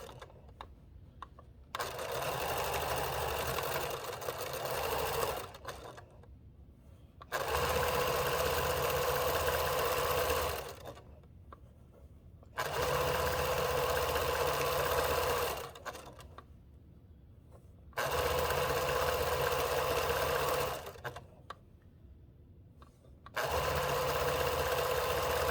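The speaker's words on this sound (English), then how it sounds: "we're gonna stitch a little wider than 1/4 of an inch" A sewing machine stitches a pillowcase seam in long, steady whirring runs, several bursts of even mechanical buzzing separated by short quiet pauses, close and clear without talk.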